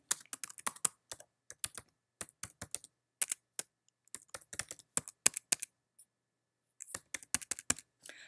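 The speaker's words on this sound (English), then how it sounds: "we go ahead and type in the information" Rapid, irregular keystrokes on a computer keyboard, clicking in quick bursts with brief pauses, close and clear with no talking.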